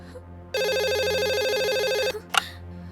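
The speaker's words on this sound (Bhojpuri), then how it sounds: "कब्बे से फोन बाजत बा।" A telephone rings in steady repeated electronic trills, loud and close, continuing unanswered for about a second and a half before cutting off, followed by a brief rustle.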